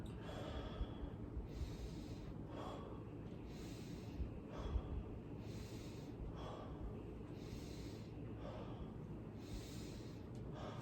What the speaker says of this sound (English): just take a quick deep breath in and out